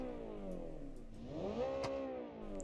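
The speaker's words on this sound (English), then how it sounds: "here is the Shinmei Raiden 1800 GTS. Wow, this car sounds amazing by the way." Shinmei Raiden 1800 GTS sports car engine in the BeamNG driving game, a steady droning note that sweeps up and down through a rev rise and settles again, fairly quiet and alone.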